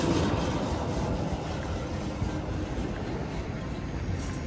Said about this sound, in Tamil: அதனால் இங்கேருந்து பார்த்தாலே ட்ரெயின் போகிறது நல்லா தெரியும்.